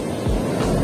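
Surf rolls onto a sandy beach with pebbles and gravid stretches in places on a rough day, a loud continuous wash of breaking water and wind rumble with no voices.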